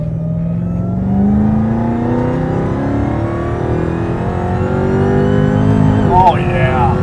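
Tuned 1000 hp Dodge Challenger Hellcat accelerating hard, loud engine roar with rising supercharger whine climbing steadily in pitch, heard from inside the car, with an occupant's voice breaking in near the end.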